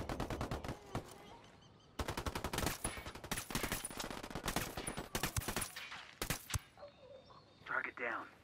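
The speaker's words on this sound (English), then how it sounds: "Opening fire on these fuckers." Squad gunfire in Ghost Recon Wildlands: dense bursts of automatic rifle fire and single shots crackling loudly over several seconds, thinning out toward the end, with some voices underneath.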